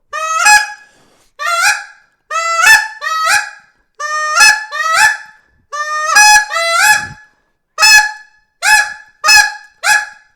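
A duck call blown in repeated honking bursts practices reed breaking, loud and close, with clear gaps between groups of notes.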